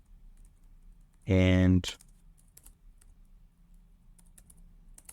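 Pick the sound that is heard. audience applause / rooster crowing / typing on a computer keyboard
typing on a computer keyboard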